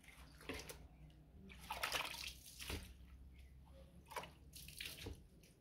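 Running water splashes and patters during a rinse while mopping at home, a faint continuous wash with scattered drips and small splashes and no clear talking.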